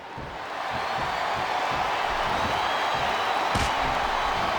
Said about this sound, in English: This capacity crowd is making their opinions known.